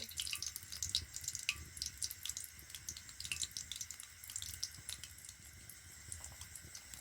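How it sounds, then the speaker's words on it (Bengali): Snack pieces for a crisp homemade snack dropped one by one into warm oil, frying with a steady close crackle and scattered sharp bursts of bubbling, no voices. "এবারে এগুলো একটা একটা করে তেলের মধ্যে ছেড়ে দেব।"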